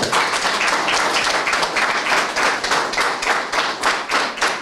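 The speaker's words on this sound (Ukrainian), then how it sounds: "Оплески шалені Марина Мажула" Enthusiastic applause for Paralympic silver medalist and world champion Maryna Mazhula: a crowd claps continuously and loudly, dense and even throughout, with a few faint voices underneath.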